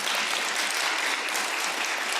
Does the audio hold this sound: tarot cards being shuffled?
no